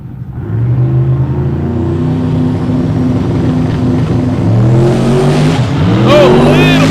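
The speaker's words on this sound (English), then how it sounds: "Oh, a little bit of tire chatter there for Corey Thompson, and that's going to cost him in the ET department." A Chevelle drag car launches at a dragstrip with a loud, sustained engine roar that climbs in pitch, a brief stutter of tire chatter partway through, and crowd or announcer noise mixed underneath.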